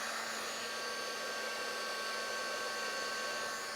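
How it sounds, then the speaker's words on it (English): Heat tool blowing hot air over craft glue, a steady, loud, continuous whir with a fixed motor whine and no pauses, heard alone. "I'm going to give it a quick blast with the heat tool."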